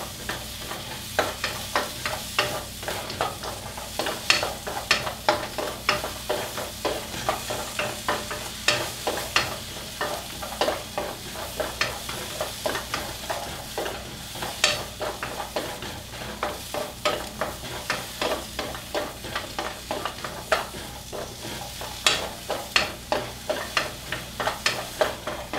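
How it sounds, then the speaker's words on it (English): Carrots being stirred in a hot pan for a vegan peanut butter stir fry, a continuous loud sizzle with quick, regular scraping stir strokes throughout and no voices. "Keep them moving around the pan."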